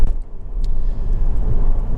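Honda Civic 2.2 i-CTDi ES five-door diesel on a test drive, a steady low engine and road rumble from inside the cabin, continuous and fairly loud with no talking.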